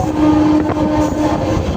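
Loud close rumble from inside a crowded moving train, with a steady humming tone and rattling underneath for a couple of seconds.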